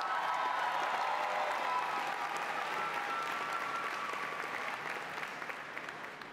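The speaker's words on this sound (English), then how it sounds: "Let's give them one more round of applause." A graduation audience claps steadily in a large hall, a dense, unbroken wash of applause that holds strong and then tapers slightly toward the end.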